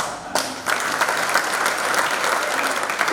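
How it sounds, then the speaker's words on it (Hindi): Loud audience applause fills the space at a religious gathering, a dense steady wash of clapping that swells in after a brief quieter opening and holds strongly to the end. "रोहा वाले ताली बहुत जोरदार है।"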